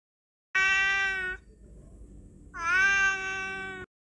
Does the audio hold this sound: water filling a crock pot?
no